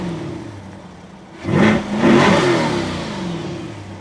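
A 2020 Chevrolet C8 Corvette engine revs hard twice from a low idle, a loud close roar that swells, dips, surges again and then settles back toward idle.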